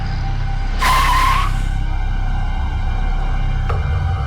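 A car skids briefly as it brakes to a stop on a road, a short squeal of tires followed by steady engine and cabin rumble, with a faint click near the end.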